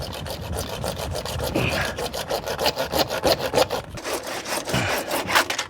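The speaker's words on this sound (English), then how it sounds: "we're just gonna do it nice and gentle with a standard carpenter saw" A standard carpenter's handsaw cuts through PVC gutter pipe in steady back-and-forth strokes, a close, rhythmic rasping that keeps an even pace with no talking.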